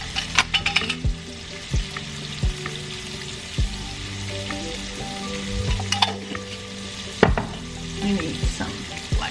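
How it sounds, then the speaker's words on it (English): Vegetables sautéing in a pan give a loud, steady sizzle and frying hiss, with occasional utensil clinks and stirring scrapes, and no voices. "I could eat just sauteed veggies"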